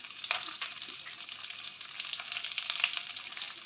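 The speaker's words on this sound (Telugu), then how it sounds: "జీడిపప్పు, పిస్తా పప్పు వేసి వేయించుకోవాలండి" Cashews and pistachios frying in a pan give off a steady, moderately loud sizzle with soft crackles, continuous throughout.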